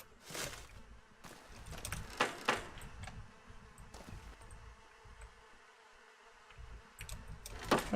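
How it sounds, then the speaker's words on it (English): Flies buzzing in Fallout: Tale of Two Wastelands, with faint insect hum punctuated by a few louder passing buzzes near the start and end over quiet game ambience. "I don't think I've ever noticed the sound of the flies buzzing there before."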